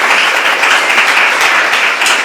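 An audience at a live show breaks into loud, sustained applause, dense clapping that continues without a break from start to finish.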